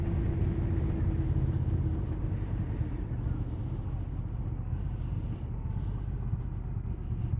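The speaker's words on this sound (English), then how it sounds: "And I can hear it, engine braking and everything." A 2021 Honda Rebel 1100 motorcycle engine braking on the road, a steady low rumbling drone under constant wind buffeting at the microphone, loud and unbroken for the whole stretch.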